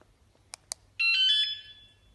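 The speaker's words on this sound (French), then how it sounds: "Mise en activation de l'alarme." A Mengshen wireless bike alarm arming by remote: two short sharp beeps, then a longer warbling electronic confirmation chirp, close and alone in a quiet room.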